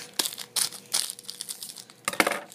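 Chocolate packaging being wrestled open with scissors, giving bursts of crinkling plastic and short tearing snips at close range, with quiet pauses between the bursts.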